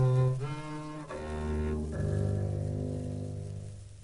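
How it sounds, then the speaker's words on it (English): A wooden double bass is bowed with a long bow across its strings, drawing three sustained, droning low notes one after another, rich and steady, heard alone at close range. "Or you can use a long bow and push it across the strings to make a sound like this."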